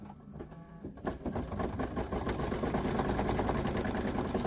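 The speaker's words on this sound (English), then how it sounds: "this 5th stitch on this is going to tack the 2 pieces together" An embroidery machine stitches a shamrock coaster in the hoop, tacking two pieces together; after a quieter start it settles into a loud, rapid, rhythmic mechanical chatter close by.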